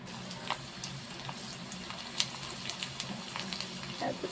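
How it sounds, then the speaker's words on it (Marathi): Spices for a tempering crackle and sizzle in hot oil, a continuous close frying hiss with scattered small pops and spits throughout, moderately quiet and steady. "आता फोडणी देऊया आपण याला."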